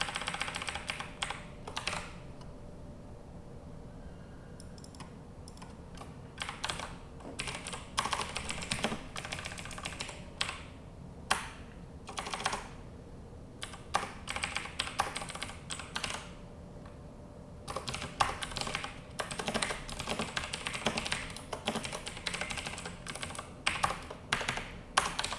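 Bursts of rapid keystrokes on a computer keyboard, close and clear, come in irregular runs separated by short pauses while code is typed during compiler development work.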